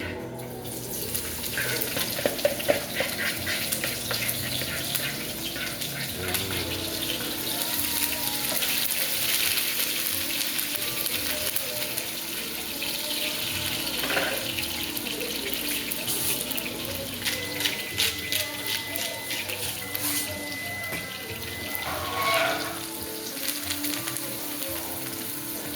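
Seasoning for Jamaican mackerel hits hot oil in a pan, giving a steady hiss and sizzle with some watery splashing and clatter, close and fairly loud, no talk.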